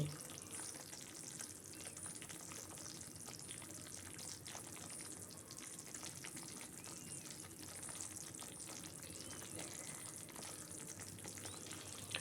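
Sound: flour being roasted in a pan until pinkish

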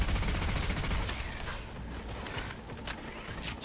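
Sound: smart weapon gunfire in video game Cyberpunk 2077

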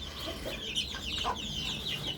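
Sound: hens clucking

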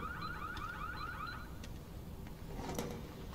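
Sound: car alarm in a shop, from video game Need for Speed Unbound

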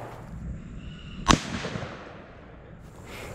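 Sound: rifle firing M855 ball ammunition at ceramic armor plate

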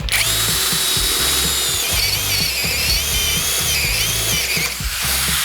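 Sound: GRAND 16V brushless cordless drill boring with 20 mm spade bit

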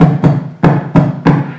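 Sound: beatboxer imitating a kick drum pedal

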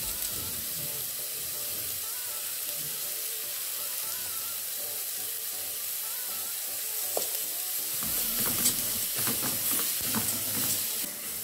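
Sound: rice being added to a hot pan, sizzling

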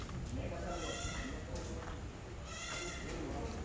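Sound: goat bleating on a goat farm

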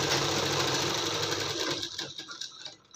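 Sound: sewing machine stitching an embroidered blouse

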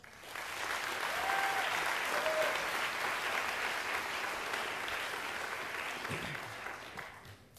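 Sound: audience applause

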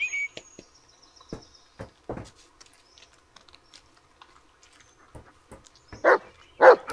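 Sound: dog barking in Blair Witch video game

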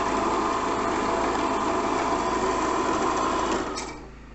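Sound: electric drill running on petrol generator power

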